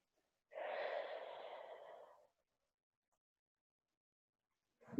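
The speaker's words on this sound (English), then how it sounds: "Breathe in. and breathe out." One long, deep breath drawn in and let out during a guided relaxation exercise in an online counselling session, soft and close to the mic and followed by silence, with a sharp onset at the very end.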